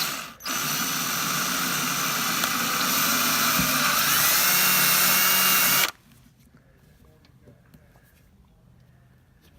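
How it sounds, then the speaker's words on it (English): A power drill bores a pilot hole into the bottom cover of a boat tiller, a loud, steady high-pitched whine running continuously for several seconds before cutting off abruptly into quiet. "Drill you a pilot hole."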